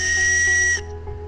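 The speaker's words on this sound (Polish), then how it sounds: "zasygnalizuj gwizdkiem, że potrzebujesz pomocy" A loud, steady, shrill whistle blast lasts under a second, blown to signal for help after breaking through ice, then cuts off to quiet background.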